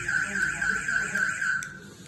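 A motion-sensor burglar alarm sounds a continuous high-pitched electronic tone with a slight pulsing warble, steady and fairly loud for about two seconds.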